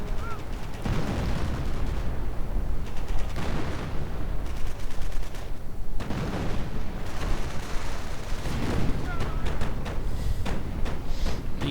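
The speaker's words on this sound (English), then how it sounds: "These riflemen got themselves a very nasty surprise as the 2cm auto cannons tore them several new ones." Battlefield din from a strategy game, with 2cm autocannons and artillery firing in dense, overlapping volleys of booms and rapid bursts that go on without a break, loud and continuous with some talk mixed in.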